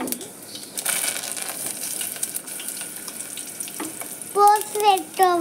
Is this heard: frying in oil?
yes